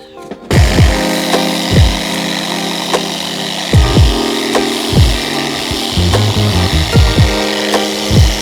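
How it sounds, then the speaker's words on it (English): An electric sander runs loudly on a car fender, its motor whining and rising and falling in repeated surges as it grinds against the surface. "grab our sander, start sanding this down"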